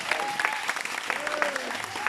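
An outdoor crowd at a village pushcar (soapbox) race applauds a competitor, scattered clapping over a brief stretch with voices mixed in.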